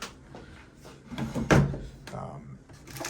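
A hotel room drawer slides and thuds shut nearby amid soft rustling and handling noises, with a person talking over it.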